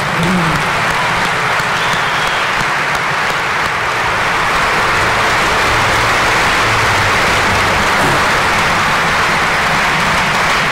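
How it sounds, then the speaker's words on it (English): A large audience at an IBM EMEA show in Dubai applauds its award winners, with dense, loud clapping sustained steadily for about eleven seconds. "How about a round of applause for our award winners?"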